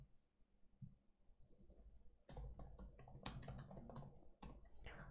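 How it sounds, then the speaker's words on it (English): Keys clatter on a computer keyboard as figures are typed into a spreadsheet-style exam screen, a quiet hum giving way to a close burst of irregular clicking keystrokes. "So I'm just going to type it in"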